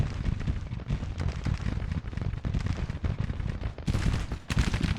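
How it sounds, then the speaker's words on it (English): Civil War cannons and artillery firing in a strategy battle game, a dense rapid series of booming blasts and crackling volleys, loud and continuous, no talk. "We got these cannons also."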